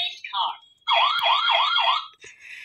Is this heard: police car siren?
yes